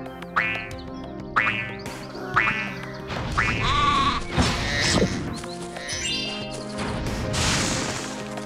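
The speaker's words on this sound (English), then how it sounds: "Yes, Sparks, I know what sheep are." Cartoonish sheep bleating in the video game Spyro: Enter the Dragonfly on GameCube, several short bleats in a row followed by crashing smashes and game effects, loud and busy.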